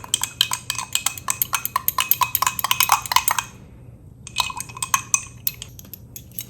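A spoon stirs a vitamin B drink in a glass, clinking rapidly and repeatedly against the sides for about three seconds, pausing, then resuming with a few more bright taps.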